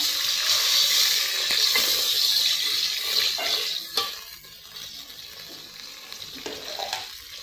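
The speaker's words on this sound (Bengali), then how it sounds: "এখন দিয়ে দিব সামান্য পরিমাণে পানি, যাতে পেঁয়াজটা পোড়া না ধরে তার জন্য।" A little water hits a pan of fried onions with a loud burst of hissing steam and sizzle that gradually dies away over several seconds, punctuated by a few soft utensil knocks.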